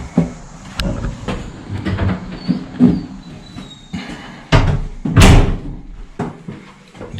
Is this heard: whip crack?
no